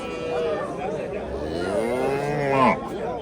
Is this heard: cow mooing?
yes